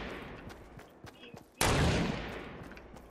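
A single sharp, loud shot in a video game cracks out after a quiet stretch of faint ambient noise, then rings and decays over the following second and a half.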